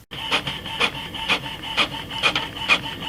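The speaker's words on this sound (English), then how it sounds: "And through the setup, we're doing our first printout here." An HP OfficeJet 5740 inkjet printer running its first page, giving a steady mechanical whir with repeated rasping print-head passes about every half second, close and clear with no talking.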